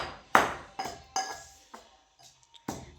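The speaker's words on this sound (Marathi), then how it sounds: "लसूण कोथिंबीर कुटून द्यायला लागलाय" Garlic and coriander being pounded by hand produce five or six sharp, separate knocks with slight metallic ringing, spaced irregularly about half a second apart, fairly quiet and close with near silence between strikes.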